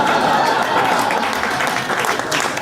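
A stand-up comedy audience bursts into sustained applause mixed with laughter, a dense crowd roar that holds for the whole stretch.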